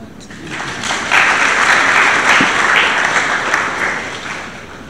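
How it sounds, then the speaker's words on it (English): A lecture audience at the J. B. Danquah Memorial Lectures breaks into applause, clapping swelling quickly from a few hands to a full, loud, sustained round before tapering off near the end. "I think women deserve a clap for that."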